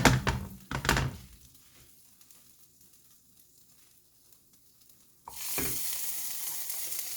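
A few knocks and clatters at first, then a quiet stretch. A loud, steady sizzle of Vietnamese pizza frying in a hot pan rises suddenly near the end and keeps going.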